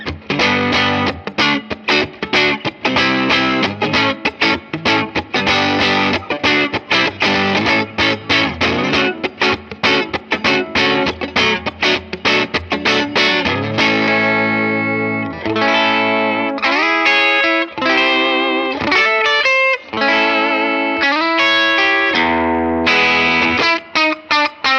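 Electric guitar played through an Amplitube TONEX pedal running a boutique amp model, gritty distorted tone with chorus shimmer, dense strummed chords and sustained notes ringing loud and continuous.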